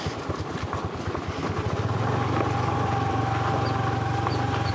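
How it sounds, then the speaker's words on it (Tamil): An old jeep's engine labors up a rough mountain road, a steady loud rumble with rattling clatter that swells and settles into a constant strained drone. "ஜீப் தான் பாருங்க, எப்படி ஏறி."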